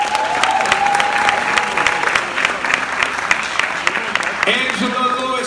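Audience applause for the cast at a series premiere Q&A in Harlem, New York, steady dense clapping and crowd noise throughout, with cheering voices and a shout rising over it near the end.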